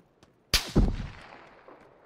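Gunfire in PUBG, with a single sharp, loud shot followed closely by a second heavy report that rings out and fades over about a second.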